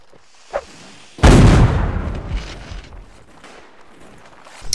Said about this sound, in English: shoot that cannon if you can't find anything else